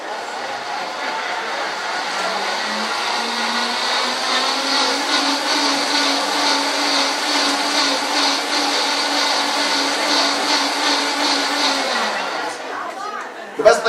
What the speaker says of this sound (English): The best thing about a blender of this nature is that you can actually put raw vegetables and water in here